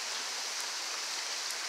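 Rain falls on garden plants and ferns, a steady bright hiss of drops with no breaks, moderately loud and continuous with no voices.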